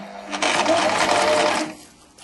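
An electric sewing machine runs for about a second, stitching the shoulder seam of a silk satin shirt in a quick, steady whirring burst up close, then stops.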